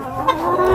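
Free-range chickens cluck close by in a short, loud burst with no talking.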